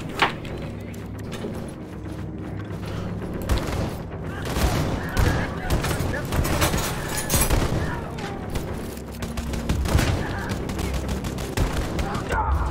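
Rapid bursts of gunfire and booming impacts from a Wolfenstein II: The New Colossus firefight on PC, loud and dense throughout, with a voice occasionally mixed in.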